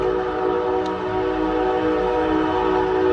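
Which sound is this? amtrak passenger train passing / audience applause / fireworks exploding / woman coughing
amtrak passenger train passing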